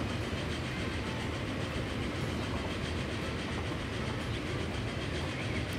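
A freight train rolls steadily through a Transport Fever game world, its continuous rail rumble and clatter holding an even, dense level from start to finish with no talk.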